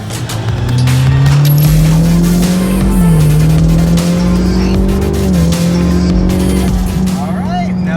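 Ford Mustang EcoBoost accelerating hard in second gear, a loud close engine roar climbing steadily in pitch with brief dips at shifts, tire noise underneath, and people talking over it.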